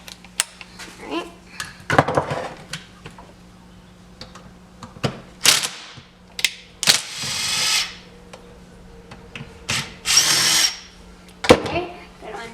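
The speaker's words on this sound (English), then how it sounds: "I'm going to use a screw gun on this one" A screw gun backs screws out of the carburetor on an Echo HC 1500 hedge trimmer, giving several short whirring bursts separated by clicks and handling noise, close and moderately loud.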